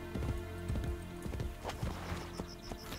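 Horse hooves clip-clop in the video game Assassin's Creed Brotherhood, quick rhythmic thuds of a riding horse over a steady game ambience and hum, fairly faint.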